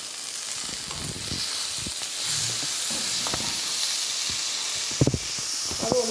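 Chopped tomatoes and green chillies sauté in a hot pan for Kerala chicken chilli, producing a continuous hissing sizzle broken by occasional clinks and scrapes of stirring.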